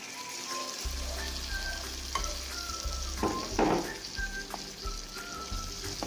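Chicken pieces sizzle and fry in a pan of gravy with curry leaves, with steady crackling and intermittent scraping stirs close up, no talk.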